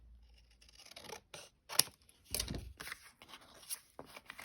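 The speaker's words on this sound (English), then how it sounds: "Right, I'll just trim it down a wee bit more." Scissors trimming a small piece of card for a handmade fireplace card, a series of crisp close snips and papery rustles spaced irregularly, with no talking.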